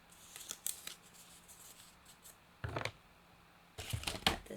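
Scissors cut through folded paper while shaping a banana for a children's craft: faint snips early, then two louder crisp cutting bursts near the middle and end, close up with no talk.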